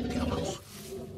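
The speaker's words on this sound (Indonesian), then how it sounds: "yang ini T-Rex teman-teman" A T-Rex roars in the video game Jurassic World Evolution 2, a loud, deep, growling bellow that rumbles for about half a second and then trails off into a low ambient hum.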